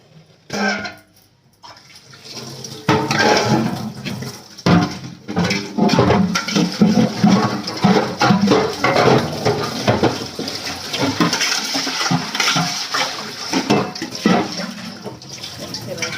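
Water runs loudly from a tap while cleaned aluminium containers are rinsed, a steady splashing rush with occasional hollow metallic clanks and knocks, up close.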